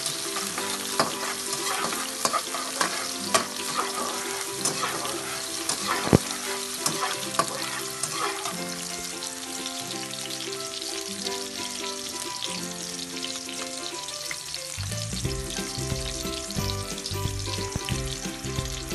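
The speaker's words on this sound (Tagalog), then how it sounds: "Pag mainit ng mantika, pwede na natin ilagay ang sibuyas at bawang." Onion and garlic fry in hot oil in a pan for a Filipino chicken sotanghon dish, a steady loud sizzle with occasional stirring scrapes, continuous throughout with background music and no talking.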